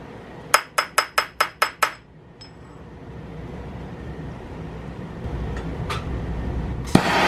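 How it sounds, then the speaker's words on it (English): Seven sharp metallic strikes in quick even succession as an extension tool hammers a new headset bearing into a Manitou Dorado Expert fork on a Sur Ron electric bike, followed by low workshop rumble and a final single clank. "Let me hit it with a extension or something."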